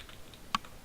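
A few soft keyboard taps, with one sharper keystroke standing out near the end, close and quiet.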